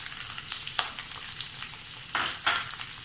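Onions and green chillies frying in a pan with garlic, sizzling steadily while a spoon stirs them, with a few louder scraping bursts near the start and toward the end.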